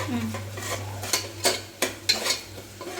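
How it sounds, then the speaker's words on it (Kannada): An asafoetida tempering frying in a pan, with a light sizzle under a handful of distinct metal spatula scrapes against the pan, close by, over a low steady hum, with no voices. "ಓಕೆ ಇದು ಸ್ವಲ್ಪ ಫ್ರೈ ಆಯ್ತಾ ಇದೆ"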